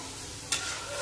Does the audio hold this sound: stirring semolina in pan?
yes